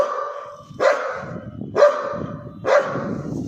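Three evenly spaced, loud, sharp barks from a Belgian Malinois, about one second apart, close to the listener with no voices.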